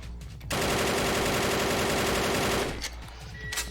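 Enemy laser fire in the Banzai Escape game, a rapid, dense stream of shots lasting about two seconds, loud and continuous, followed by a few scattered quieter bursts.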